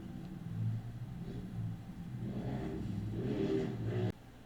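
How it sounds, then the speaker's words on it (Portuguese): A motorcycle passes at moderate distance, its engine rumble swelling and fading in waves before cutting off abruptly near the end. "deixa eu só a moto passar"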